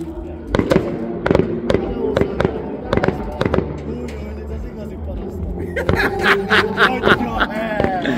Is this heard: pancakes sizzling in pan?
no